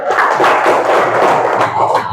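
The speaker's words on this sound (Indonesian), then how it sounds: "Tepuk tangan untuk semuanya." A fourth-grade class claps together for the whole group, a dense, steady burst of hand clapping filling a room for about two seconds, loud and close with no talking over it.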